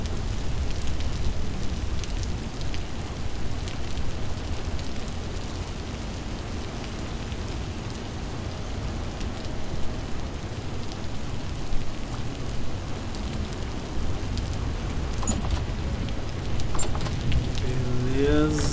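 Rain falling in the video game Vintage Story during a storm: a steady, dense hiss of rainfall that runs unbroken throughout, fairly loud and close, with a few faint clicks near the end.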